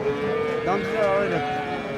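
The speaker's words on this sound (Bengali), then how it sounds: "অনেক বড় সাইজের গরু ফ্রিজিয়ার" A large Friesian cow at a big cattle market in Dinajpur gives a single drawn-out moo lasting over a second, close and clear over a low murmur of market background.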